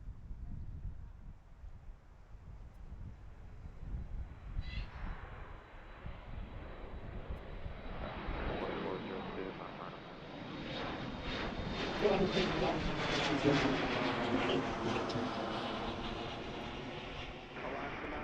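An airliner takes off at Washington Reagan National Airport, its engine roar building gradually into a rising, wavering whine that grows louder toward the end, with speech and light wind over it.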